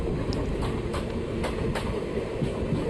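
The Sindhanur–Yeshwantpur train passes at a crossing outside Chikkabanavar, making a dense, close rail rumble with a few sharp wheel clacks over three seconds.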